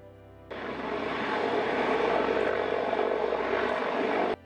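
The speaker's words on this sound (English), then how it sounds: "It is a heavy-lift cargo helicopter and was produced by Sikorsky Aircraft." Sikorsky CH-53K King Stallion heavy-lift cargo helicopter, a loud, dense rotor and turbine roar that cuts in abruptly, holds steady for several seconds, then stops sharply.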